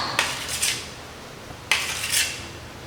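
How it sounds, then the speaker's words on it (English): A metal knife cuts through soft steamed idlis on a plate, two scraping strokes each ending in a light clink, close and clear over a quiet background. "This is cutting of the idlis"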